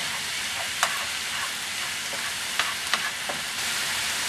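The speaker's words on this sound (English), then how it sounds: "We want to cook the peppers and onions until they are a little bit soft." Peppers and onions frying in a pan for a beef casserole: a steady, fairly soft sizzle with a few sharp pops and crackles scattered through, close by and with no voices.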